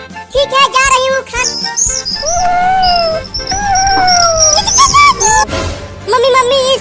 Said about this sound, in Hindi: इस पेड़ के ऊपर से चिड़िया के बच्चों के चहचहाने की आवाज